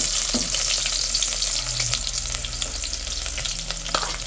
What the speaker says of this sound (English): You have to be careful with the onion because of the hot vegetable oil